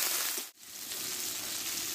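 Spices with salt and turmeric sauté in a pan, a continuous close sizzling hiss that dips for a moment and then carries on steadily, with no voices.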